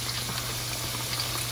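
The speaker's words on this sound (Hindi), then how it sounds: "आप इसको अच्छी तरह फ्राई करें ताकि ये अंदर से सही पक जाए" Fish pakora deep frying in hot oil, a steady close bubbling sizzle with a constant low hum underneath, no voices.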